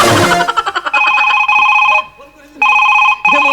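A telephone rings loudly in repeated electronic trills with short pauses between them, after a brief burst of music at the start.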